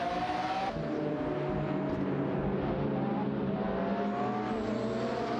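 Bugatti EB110 SS and Lamborghini Diablo SV engines roar steadily in a racing video game, a continuous high revving drone with shifting tone held loud throughout.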